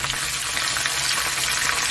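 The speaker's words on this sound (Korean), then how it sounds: "조금 더 바삭하게 튀기겠습니다." Dense, steady sizzling and crackling of small crabs deep-frying in hot oil, close and continuous with no voices.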